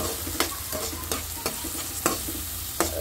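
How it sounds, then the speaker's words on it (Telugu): Chili powder and coriander powder fry in a pan for a pasta dish. A spoon scrapes the pan in regular strokes, roughly three a second, over a steady soft sizzle, with no talking. "కారం వేసుకుందాం, కొంచెం ధనియాల పొడి వేయించుకొని కలిపేసుకుందాం"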